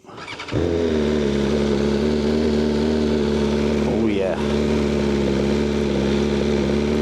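A BMW motorcycle engine fires up and settles into a loud, steady high idle around 2,000 rpm with a constant roar, and a voice speaks briefly partway through.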